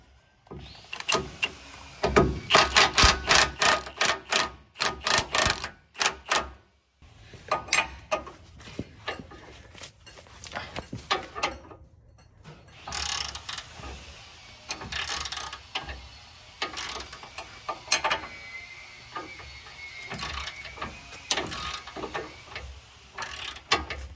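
A ratchet backs out a one-inch bolt on the steering of a 2018 GMC 2500HD Duramax, with bursts of rapid, close clicking separated by pauses and clanks of metal handling, and no voices.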